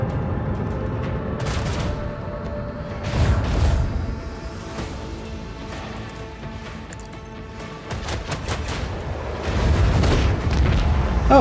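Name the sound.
macro cannons firing in Rogue Trader video game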